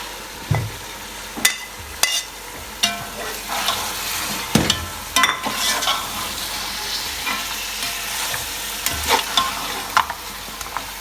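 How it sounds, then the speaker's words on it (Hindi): Mutton sizzling in a pan of fried spices for yakhni pulao, a steady close frying crackle broken by sharp scrapes and clacks of a stirring spoon. "ये मटन को भून रहे हैं।"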